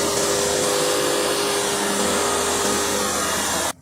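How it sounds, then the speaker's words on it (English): A 400 HP Turbo Mulcher EV60A wood chipper shreds trees with a loud, dense, continuous roar and grinding that holds steady, then cuts off abruptly at the end. "Meet the Turbo Mulcher EV60A 400 HP beast, devouring trees like a wood chipper on steroids."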